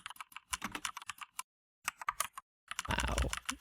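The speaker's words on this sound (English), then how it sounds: "this app that plays my keyboard sounds, it's technically a keylogger" Computer keyboard keys clicking in quick bursts, played back by an app tied to a real keyboard during a coding session; close and fairly loud, in short runs separated by pauses, with a denser flurry at the end.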